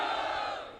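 A crowd of Khatu Shyam devotees on a pilgrimage walk roars a brief, loud jaikar chant for Shyam, a single massed shout that fades within a second.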